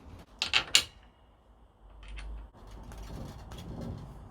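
Bolts being fitted on an old bench vice, with a few sharp metallic clicks and taps up close, then quieter ratcheting and scraping mechanical sounds.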